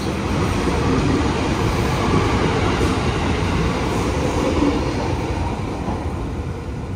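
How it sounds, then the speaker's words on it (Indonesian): Passenger train, the KA Sembrani, pulling into Pasar Turi station: a steady, loud low rumble and rolling clatter that holds throughout, easing slightly toward the end, with no talking. "Oke, kita ke sana, kita lihat keretanya datang ntar."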